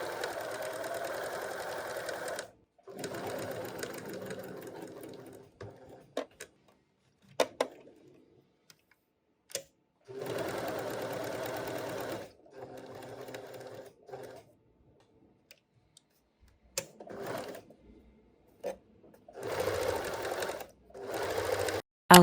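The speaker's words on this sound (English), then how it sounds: "I top stitch, and you want to top stitch close to the edge on the sides" Sewing machine top stitching close to the fabric edges of a tiered gathered sun dress, running in several separate bursts of a few seconds each with quiet pauses between them.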